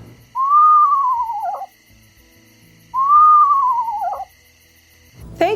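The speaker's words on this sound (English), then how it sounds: "Let's take a second and listen to the eastern screech owl's call." Eastern screech owl call, two clear descending whinnying whistles, each lasting over a second, separated by a short gap and heard loud and close against a quiet background.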